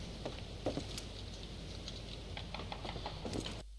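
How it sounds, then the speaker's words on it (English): Steady soft hiss of falling rain in a video game (Medal of Honor: Allied Assault) with faint scattered patters, quiet and continuous throughout. "Strange. It suddenly started raining."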